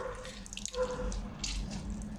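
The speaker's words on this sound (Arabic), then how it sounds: "ندير عصير حامض." Lemon juice trickles onto chicken being prepared Moroccan wedding style, a soft, close liquid pour with faint drips over a low background hum.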